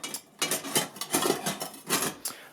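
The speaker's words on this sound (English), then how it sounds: "in here, it's my MSR pot, and I have parts of other mess kit in there, a little frying pan, and" Metal camping mess kit pieces, an MSR pot, a small frying pan and cups, clatter and clink as they are handled, in several quick bursts of rattling metal at close range.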